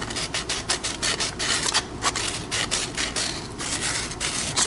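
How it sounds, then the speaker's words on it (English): Sandpaper worked by hand into the edges of holes cut in a PS5 console cover, giving a steady, close, rhythmic rasping with short repeated strokes throughout. "I just got some sandpaper here, and I'm just going to put it into the holes and just simply smooth it up a little bit"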